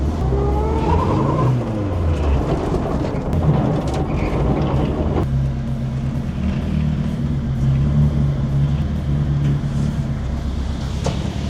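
A budget rally project car rolls slowly onto a wheel tracking machine in a workshop: the engine drones steadily close by, with rising revs early and a continuous low rumble throughout.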